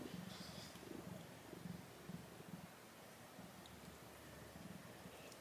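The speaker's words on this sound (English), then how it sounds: "She's still purring." A soft, continuous purring from a formerly feral cat rumbles close by in a quiet space, with a gentle rhythmic pulse and faint rustling.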